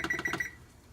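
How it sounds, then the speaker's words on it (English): Kitchen timer being set in a tiny kitchen, a quick run of four or five bright electronic beeps close up, then quiet. "I'm just gonna use our timer here."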